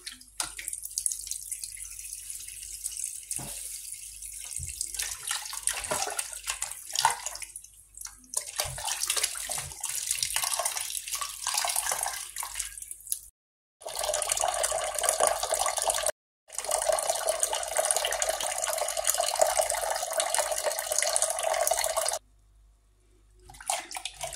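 Running water from a tap gushes steadily, splashing over raw supermarket meat held beneath it, with a couple of brief pauses where the flow stops.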